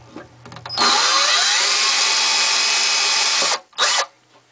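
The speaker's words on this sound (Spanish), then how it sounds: "En el taladro simplemente hacemos un agujero guía justo en el centro." A power drill whirs steadily for about three seconds while boring a pilot hole into the center of a wooden bookcase drawer part, then gives one short burst after a brief stop. The sound is close and loud.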